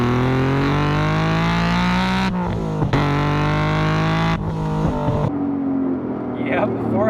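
A modified 1990s Honda NSX supercar making 400 wheel horsepower on E85 fuel revs hard with a loud, rising engine howl. The sound cuts out briefly between pulls, then settles to a lower idle-like drone near the end.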